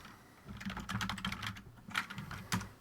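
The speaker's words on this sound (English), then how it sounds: "Hold on, I'm going to type loudly." Fingers type loudly on a computer keyboard, close to the mic. Quick irregular bursts of key clacks come in clusters separated by brief pauses, with a few sharper, heavier strikes.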